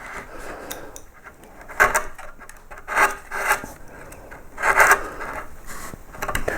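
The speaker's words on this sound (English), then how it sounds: "then you take a flat gouge, as wide as possible is usually a good idea" A wide flat No. 3 woodcarving gouge flattens the background of a pierced relief carving of a yellow flag iris, producing close, irregular scraping and shaving strokes in uneven bursts.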